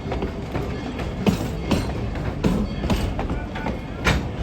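A heritage steam train, locomotive 190 at Tweetsie Railroad, rumbles steadily along the rails with rhythmic clacks and occasional metallic squeaks, heard up close and continuous throughout.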